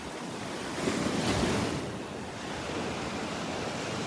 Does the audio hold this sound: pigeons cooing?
no